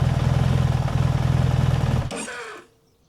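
A BMW R1300 GS Adventure motorcycle idles with a steady, loud pulsing throb, then its engine is switched off and cuts out abruptly, leaving a brief mechanical wind-down before near silence.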